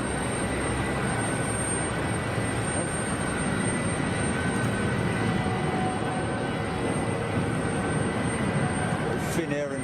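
Finnair jet airliners taxi out at an airport, their engines making a steady, loud roar that fills the whole stretch, with a voice talking over it.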